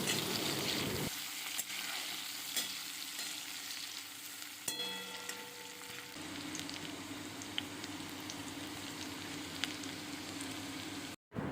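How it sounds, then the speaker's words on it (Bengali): Dried and fresh green chillies, onion and garlic sizzle and crackle in hot oil while being stirred, a steady close frying hiss that runs throughout with a few clinks of a utensil and no talk. "তেলটা গরম হয়ে গেলে একটু শুকনো লঙ্কা কাঁচা লঙ্কা আর শুকনো পেঁয়াজ দিয়ে দিলাম এগুলোকে একটু ভালো করে নাড়াচাড়া করে নিয়ে এর মধ্যে দু কোয়া রসুন দিয়ে দিলাম"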